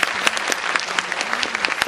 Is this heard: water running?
no